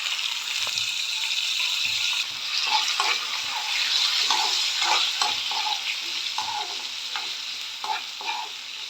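Chopped tomatoes with curry leaves, ginger pieces and broken byadgi chillies sauté in a hot pan, giving a steady close sizzle with repeated scraping and stirring strokes throughout, no voices.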